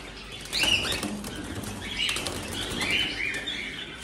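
Several birds flap their wings in bursts, a soft fluttering that comes and goes over a few seconds, fairly close and otherwise quiet.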